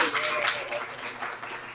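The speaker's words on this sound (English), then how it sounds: "Another round of applause." Audience applause at an EPA and TUSD clean school buses press conference, a steady wash of many hands clapping at moderate volume through the whole stretch, with some voices mixed in.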